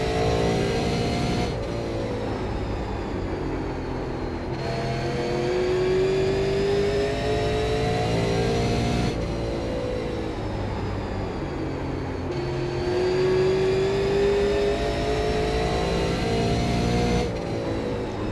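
Super late model race car engine revving through gear shifts in the iRacing sim at Five Flags, a loud steady drone rising in pitch twice with drops between, heard alone.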